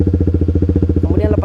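A clutch motorcycle pulls away slowly on a half-engaged clutch, its engine throbbing in a steady, close, loud pulse that roughens slightly as it moves off.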